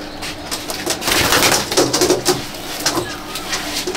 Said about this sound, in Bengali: অন্ধারি পায়রা।